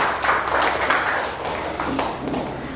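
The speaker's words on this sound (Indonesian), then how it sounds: "Beri tepuk tangan untuk kelompok 2." Classroom applause for a student group, a brisk patter of many hands clapping fairly close, steady over a few seconds and tapering slightly, with no clear talking.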